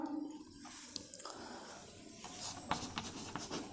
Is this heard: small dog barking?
no